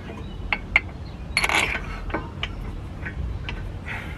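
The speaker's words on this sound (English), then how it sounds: "So now you want to put the bolts back in." Brake caliper bolts being threaded back in by hand on a 2005 Acura RL front brake job: faint, scattered metallic clicks and small ratcheting ticks, close by, with no talk.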